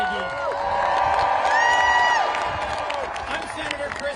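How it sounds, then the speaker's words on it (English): A protest crowd in Washington, DC cheers and whoops for USAID workers, a loud, sustained roar with shouted voices swelling in the middle. "Let's cheer for the men and women of USAID."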